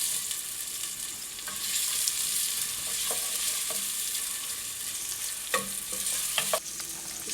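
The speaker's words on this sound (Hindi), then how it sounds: "थोड़ा सा इसको सोते करेंगे" Thin slices of onion are sautéed in hot oil for a beef curry. A close, continuous sizzle runs throughout, with soft spoon scrapes and clicks recurring as the onions are stirred.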